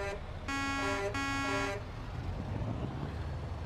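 The horn of a Scania 124G truck in Euro Truck Simulator 2 sounds two loud, close toots, one long and one shorter, then cuts off, leaving a low engine rumble beneath.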